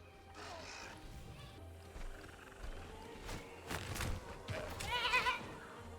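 Goats bleat intermittently inside a dinosaur park in the Jurassic World Evolution video game, several short cries over soft footsteps and a low ambient game background.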